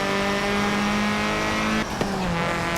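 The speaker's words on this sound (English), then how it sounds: "I stayed on those rumble strips that whole turn." Racing car in Forza Motorsport 7, a hot hatch running over rumble strips through a turn, its engine holding a steady loud whine that shifts pitch partway through, with no talking.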